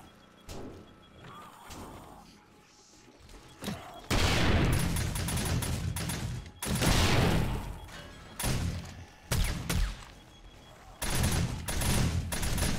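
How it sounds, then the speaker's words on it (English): Shotguns firing in a blood moon horde night of the video game 7 Days to Die with the Darkness Falls mod, heavy blasts and rapid bursts coming in clustered volleys across the stretch; no talking. "Well, the shotguns are having a go."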